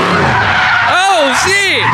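A tuned car spins on a city street, its tires squealing in two loud rising-and-falling skids over a steady roar of engine and crowd noise, with voices shouting nearby.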